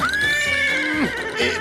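A farm horse lets out a loud, close whinny with a long rising and falling call, a faint thud or two of hooves around it.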